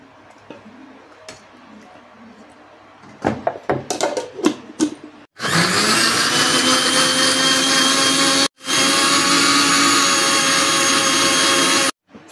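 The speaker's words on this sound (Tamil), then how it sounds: "இதை மிக்சியில் வந்து டொமேட்டோ பேஸ்ட்டை அரைக்க போகிறோம்" A kitchen mixer grinder whirs at high speed, grinding fresh tomatoes into paste, after a few clunks as the jar is set; it runs loud and steady, pauses briefly, then resumes until stopping.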